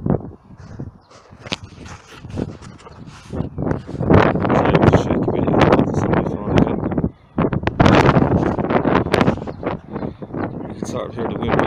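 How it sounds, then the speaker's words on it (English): Strong wind buffets the microphone on a rooftop, gusting in loud irregular bursts with a brief lull partway through, alongside occasional footsteps and rustling. "Now might be a little bit windy up here."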